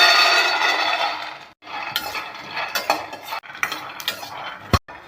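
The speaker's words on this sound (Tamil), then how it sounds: "1 கப்பு வேர்க்கடலையை வறுத்து எடுத்துக்கலாங்க." Peanuts are dry-roasted and stirred in a pan, with a metal spatula scraping and the nuts rattling in bursts, broken by brief pauses and a sharp clink near the end.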